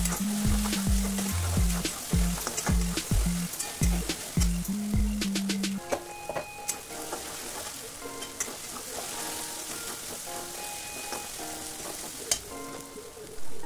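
Onion, tomato and a ginger-garlic-coriander paste fry in a pressure cooker for pav bhaji, with a run of sharp, rhythmic clanking strokes from stirring, then a steady crackling sizzle punctuated by occasional clicks.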